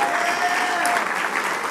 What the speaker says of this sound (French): Fait qu'une main d'applaudissement pour l'organisation.